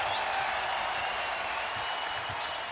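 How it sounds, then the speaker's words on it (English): At a college men's basketball championship game between Iowa State and Houston in a Kansas City arena, a big crowd cheers and applauds in a sustained, steady roar. "that gives the crowd a chance to celebrate a little bit"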